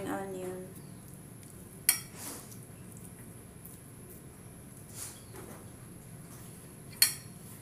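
Hee peow soup with spring onion stirred in a pot by hand, a utensil giving three sharp, isolated clinks against the pot over a faint, steady background hiss; quiet, close and unhurried, with no talking.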